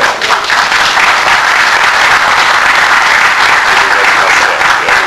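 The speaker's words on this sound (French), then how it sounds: "Ça, c'est les gars du master qui applaudissent." Master's students in a conference audience applaud loudly and close by, a continuous dense wash of clapping with no pauses.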